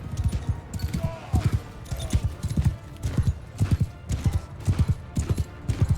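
Horse hooves clip-clop in a steady galloping rhythm during a battle in the medieval game Mount & Blade II Bannerlord, repeated bursts of hoofbeats close and loud with some faint background noise.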